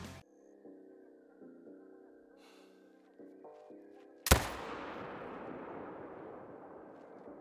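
A single loud rifle crack from a 30-30 with iron sights fires in the hunting game Call of the Wild, followed by a long rolling echo. Soft electronic tones and music play before the shot.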